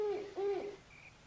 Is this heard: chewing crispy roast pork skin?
no